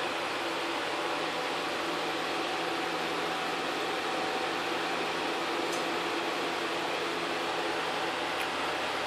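A vacuum pump holds a vacuum pot at minus 30 inches while drawing air out of wood blanks for stabilizing, giving a steady, unbroken mechanical hum and hiss that stays even throughout.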